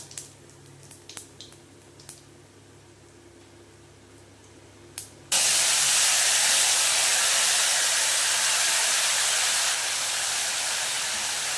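Cumin, ginger and chili paste hits hot oil, bursting into a loud, sustained sizzling hiss after a few soft, scattered clicks of whole cumin seeds tempering, while a Bengali fish curry with potato and pointed gourd is cooked.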